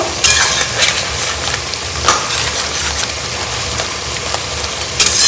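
Crab frying in a pan as it is stirred and mixed with spices, giving a steady close sizzle with scraping stir noises throughout and no talking.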